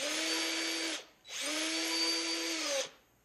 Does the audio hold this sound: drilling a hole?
yes